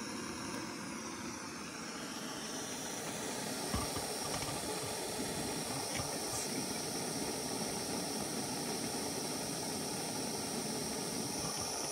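A cheap lightweight camping gas stove burns with a steady, close, broadband hiss and roar from the burner flame, unchanging throughout with no talking.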